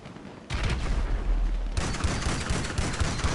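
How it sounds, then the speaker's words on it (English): Assault shotgun blasts from GTA Online, loud repeated booming shots with a sustained burst of heavy fire, close and dense, no talking over it. "God, I'm loving this assault shotgun."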